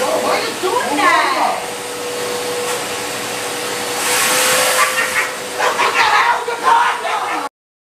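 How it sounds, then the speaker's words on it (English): A vacuum cleaner whines loudly and continuously at close range while people talk and exclaim over the noise, then it cuts off abruptly. "Vacuum cleaner prank on my girlfriend."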